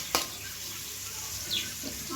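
Chopped onions fry in oil for a Mangalore-style mackerel curry, giving a quiet, steady sizzle with a couple of soft clicks, close by and alone.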